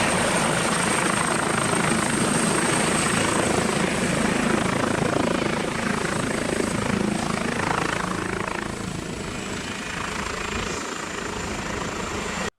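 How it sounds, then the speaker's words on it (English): A damaged helicopter roars close by during an emergency landing, with steady rotor thrum and engine noise, loud and continuous, easing slightly toward the end. "the helicopter was hit and had to make an emergency landing."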